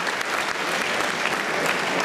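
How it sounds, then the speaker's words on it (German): Crowd at the stage ceremony of the Trans Schwarzwald 2011 mountain bike race applauding the placers, a loud, dense roar of clapping from many people, sustained and even throughout. "Applaus für die Platzierten, die auf der Bühne sind"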